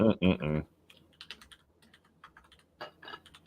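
Computer keyboard typing, a scatter of quick clicks that follows a short burst of speech at the start, with the keystrokes coming in loose irregular clusters at moderate level.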